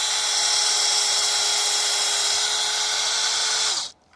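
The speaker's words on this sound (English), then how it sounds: "So you want to drill it at a slight upward angle." A steady, high-pitched drill whine runs at constant speed for nearly four seconds while drilling a tap hole in a maple tree, then cuts off abruptly into quiet.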